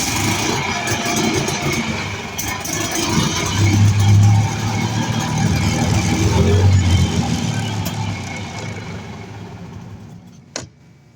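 A golf cart engine cranks and keeps running with a steady, loud mechanical drone and low rumble that holds for about ten seconds before cutting off abruptly near the end.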